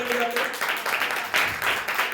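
A church congregation clapping hands in rhythm during worship: loud, steady beats of many hands close by, mixed with singing voices.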